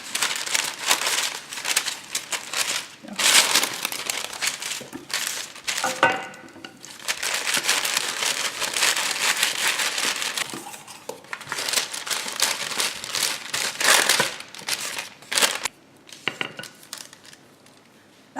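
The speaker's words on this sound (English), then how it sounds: "I'm just going to use my parchment paper on top." Parchment paper crinkles and rustles over a flaxseed dough for grain-free wraps, a busy run of crackling and crumpling bursts with short pauses, close and fairly loud.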